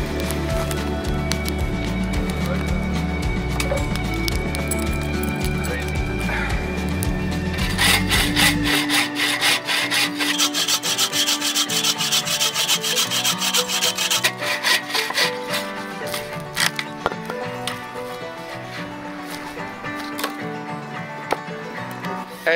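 An Agawa Boreal 24 folding saw with a 24-inch raker-less blade cuts dry firewood in rhythmic back-and-forth rasping strokes, close and loud, shifting in pitch partway through.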